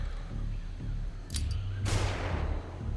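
A flashbang grenade goes off in Xenonauts 2 during a breach of a UFO. A sudden loud blast rings out over a low background rumble, just after a brief sharp click.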